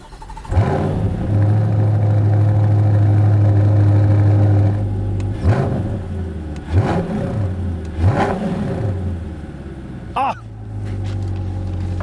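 A deep Corvette C8 engine with modified exhaust idles loudly, then revs in several sharp bursts with throaty exhaust rises and falls, close by.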